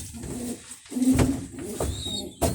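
Bursa oynar pigeons coo in a coop, several soft, throaty rolling calls in quick succession, close by with faint rustling and no talking.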